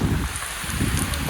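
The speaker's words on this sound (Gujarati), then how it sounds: "ફૂલ વરસાદ આવી ગયો છે ભાઈ" Heavy rain pours steadily on a mountain pilgrimage path at the Shetrunji hill temples of Palitana, a dense close hiss that fills the whole short stretch.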